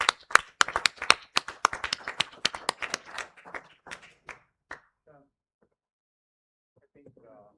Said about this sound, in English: So huge round of applause for all the 6 teams.